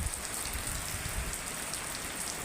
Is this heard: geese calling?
no